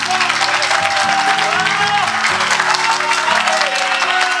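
Applause from an audience at a Hindi motivational seminar, loud and continuous, with sustained tonal music or a voice running underneath the clapping.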